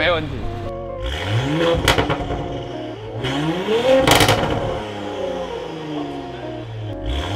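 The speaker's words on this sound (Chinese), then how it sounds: "那我刚刚有听到你的那个排气管很大声吗？" A Porsche Cayenne Coupe project SUV with a customized exhaust and tuned ECU revs repeatedly, engine pitch climbing and dropping in loud close blips, while a short spoken reply is heard briefly.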